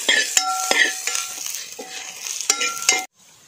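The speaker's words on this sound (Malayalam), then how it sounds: "പച്ചവെള്ളം കൂടി ഇട്ട് നമുക്കൊന്ന് മൂപ്പിക്കാം." Ginger sizzles in a pan with a splash of water for a whole fish curry, a steady frying hiss broken by sharp spoon scrapes and clinks as it is stirred, ending abruptly in near silence.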